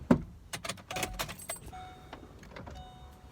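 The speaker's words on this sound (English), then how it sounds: "I had to roll up the window." A car's power window motor whirs steadily for a couple of seconds amid clicks and small knocks inside the vehicle, with no one speaking.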